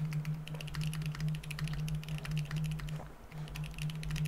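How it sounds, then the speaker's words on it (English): Rapid typing on a computer keyboard: a dense, steady run of quick keystroke clicks over a constant low electrical hum, with no one talking. "Rapidly typing back and forth"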